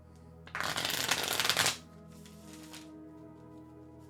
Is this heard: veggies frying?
no